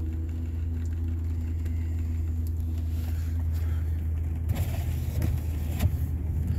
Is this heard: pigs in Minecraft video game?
no